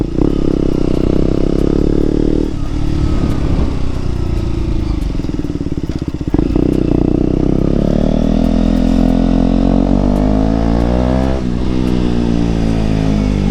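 A KTM Duke 125 motorcycle drones steadily while being ridden, with an exhaust that vibrates noticeably. The engine rises and falls through several rev changes, loud and close, with a few clattery knocks and no talk over it.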